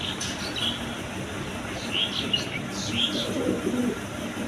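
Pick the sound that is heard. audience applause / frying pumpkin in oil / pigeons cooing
pigeons cooing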